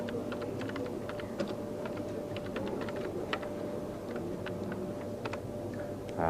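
Keys clatter steadily on a 1980s computer keyboard as a title is entered in a CAD program, a close, even run of light clicks over a constant electronic hum.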